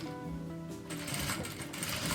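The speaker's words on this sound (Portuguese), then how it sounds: "abaixo o calcador e continuo costurando até chegar aqui no fim do triângulo" A sewing machine stitches along a fabric box case, a close, steady mechanical whirring with rapid needle ticking that picks up speed partway through.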